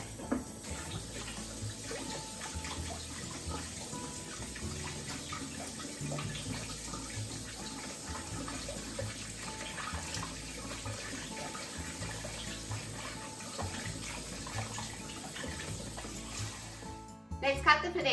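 Potatoes are washed by hand in a kitchen sink under a steadily running tap, with continuous close splashing and rustling for most of the clip before the water cuts off.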